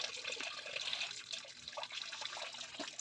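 Freshly gathered wild mushrooms are rinsed under a running tap in a sink, a steady close splashing and trickling of water that goes on throughout without speech.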